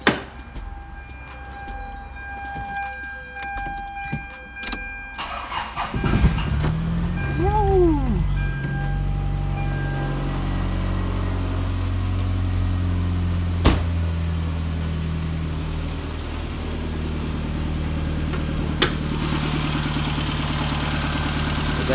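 A car engine with a fault cranks and catches, then settles into a steady, fairly loud idle running a little high, with a low rumble and a faint whine, a couple of sharp clicks over it.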